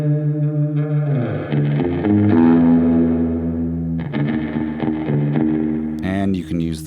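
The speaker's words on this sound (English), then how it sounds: "You can use the spring reverb by itself" Electric guitar chords through a spring reverb pedal ring out with a wet, splashy reverb tail, sustained and fairly loud, ending in a brief burst of warbly effect.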